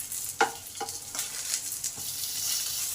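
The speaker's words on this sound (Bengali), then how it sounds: "বেগুনগুলো আমার ভাজা হয়ে গেছে, এবার নামিয়ে নেব।" Aubergine pieces frying in hot oil, a close sizzle broken by a few sharp stirring scrapes and clinks at a steady pace, with no voices.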